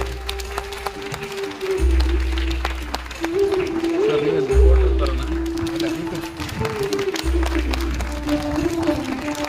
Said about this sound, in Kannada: ದಯಮಾಡಿ ಜೋರಾದ ಚಪ್ಪಾಳೆ